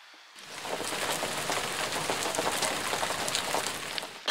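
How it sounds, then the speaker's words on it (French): Steady rain patters on a surface, a dense, even hiss that starts abruptly and holds constant before cutting off. "Mais en fait, il pleut."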